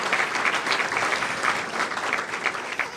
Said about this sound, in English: And let's give a round of applause to Alderman Gabinski, 32nd Ward.